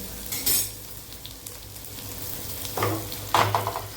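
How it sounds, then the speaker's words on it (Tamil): Onions sautéing in a pan for a Tamil home lunch, a steady soft sizzle with a few louder stirring scrapes near the start and end. "வெங்காயம் வந்து ரொம்ப வதங்கணும்"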